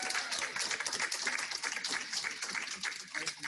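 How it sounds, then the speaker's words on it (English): Scattered hand clapping from a gathering at a county board of commissioners meeting, dense and steady throughout, fairly faint, with voices murmuring underneath. "clap their hands."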